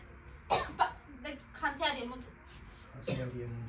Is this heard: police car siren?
no